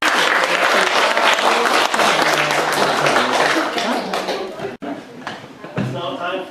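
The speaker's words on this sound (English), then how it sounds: "Clap your hands." A hall full of people applauds loudly at an academy of sciences celebration, a dense wash of clapping that fades after about five seconds, with a voice speaking over the quieter tail.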